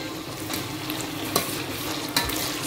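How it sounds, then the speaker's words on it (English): Chopped onion with scotch bonnet pepper sizzles steadily in a hot pan, close up, with a couple of sharp scrapes from a utensil stirring it. "So let's leave it to fry for 3 minutes"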